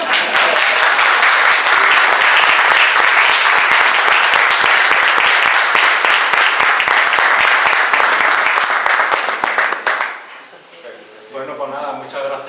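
Loud, sustained audience applause after a spiritual talk, dense clapping that continues for about ten seconds before dying away into a voice speaking.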